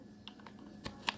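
A few separate keystrokes on a computer keyboard, faint and close, sparse and irregular clicks over a quiet room hum.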